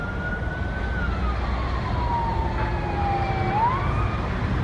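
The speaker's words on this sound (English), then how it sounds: "you can hear all the sirens in the background right now." A wailing emergency vehicle siren at a wildfire sweeps slowly down in pitch then jumps back up, steady and moderately distant over a constant low rumble of background noise.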